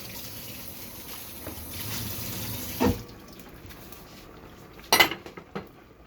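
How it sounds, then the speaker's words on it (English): A bowl is washed in water at a kitchen sink, with running water and soft splashing followed by a couple of sharp clinks of dishware. "Get one bowl. Okay. Wash it."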